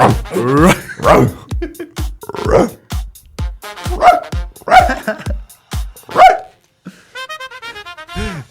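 A dog barks and yips several times in short, loud bursts alongside conversation between podcast hosts, the barks interleaved with talk.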